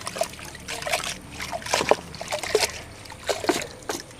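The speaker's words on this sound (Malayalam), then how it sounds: "ഇത് ഞാൻ ഈ വെള്ളത്തിലൊന്ന് ഒലച്ചെടുക്കാവേ." Freshly harvested ginger is swished and rinsed in a container of water, giving close, irregular splashes and trickles in quick bursts, fairly soft with no speech.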